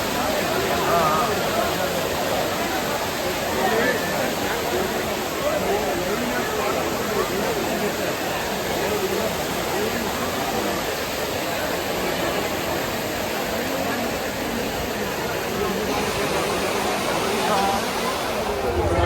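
The Courtallam waterfalls roar in a constant, broad rushing wash of falling water, loud and steady throughout, with faint crowd babble mixed into the spray.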